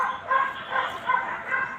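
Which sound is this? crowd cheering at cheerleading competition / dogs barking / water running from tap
dogs barking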